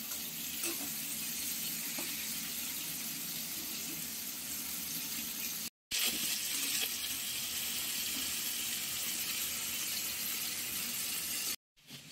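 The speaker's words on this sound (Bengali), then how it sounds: "গরম তেলে এবার দিয়ে দেওয়া হলো প্রথমে টমেটো" Tomatoes going into hot oil in a large kadai while cooking a bata fish curry with ridge gourd and potato, giving a steady loud hiss and sizzle that cuts out twice briefly.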